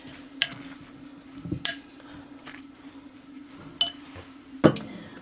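Cheese being stirred into a sole stuffing mixture: soft stirring scrapes under a faint steady hum, punctuated by four or five sharp clinks of a utensil against the bowl.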